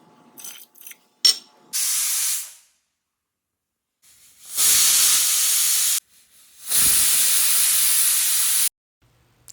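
A pressure cooker cooking beef releases steam in three loud hissing bursts of a second or two each, separated by near silence, with no talking.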